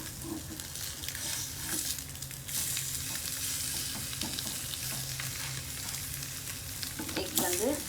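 Eggs fry in a pan for an English breakfast, a steady close sizzle with crackling spatter running throughout, loud and unbroken, with occasional stirring scrapes and no talking.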